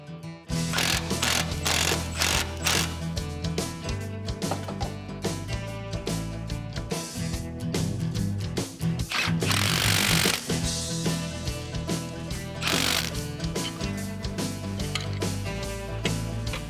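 Ratchet work bolting up a conversion plate in a workshop, a dense continuous run of rapid mechanical clicking and clattering lasting throughout, loud and close, with no speech.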